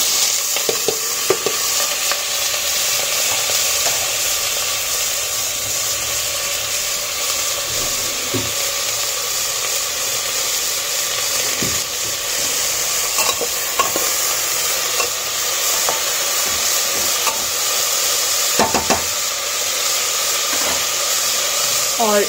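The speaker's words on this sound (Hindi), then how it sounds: "आलू और गाजर काट के रखी हूँ मैं, और यहाँ पे कुकर पे तेल गरम हो गया है और कलौंजी दे के रखी हूँ" Potatoes and carrots fry in hot oil with nigella seeds inside a pressure cooker, giving a loud, constant sizzle and hiss, broken by occasional scrapes and clinks of stirring.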